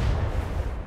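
Port side cannons fire from a galleon in the video game Atlas: a loud, deep booming blast with a heavy low rumble, filling under a second with no talking.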